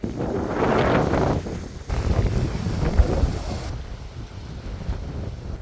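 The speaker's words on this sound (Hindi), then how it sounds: "दिन के टाइम पे तो तेज़ हवाएं हो रही है" Strong wind gusting across a mountainside microphone, a loud steady rush with buffeting swells that dip briefly and surge again, no voices.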